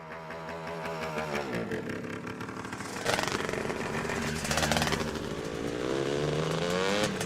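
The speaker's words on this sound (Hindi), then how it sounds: "जिम, कितनी बार तुम्हें कहा कि बाइक मत चलाया करो?" A motorcycle engine runs and revs steadily for several seconds, loud and close, its rough buzzing drone swelling midway as the bike is ridden.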